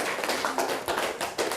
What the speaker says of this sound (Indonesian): Beri tepuk tangan sekali lagi.